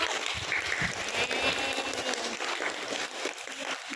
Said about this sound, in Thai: ปรบมือให้น้องหน่อยลูก